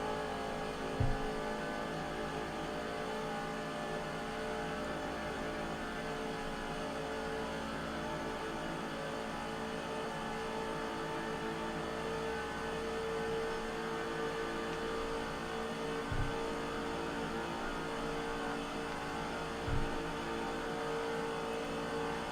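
Race cars drone around Talladega in NASCAR 05, a steady pack of engines holding a constant roar throughout, with a few brief thumps and no talk.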